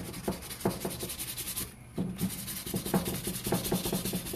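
Rhythmic dry sanding strokes rasp back and forth against a hard epoxy-coated cup, pausing briefly before the steady scrubbing resumes up close.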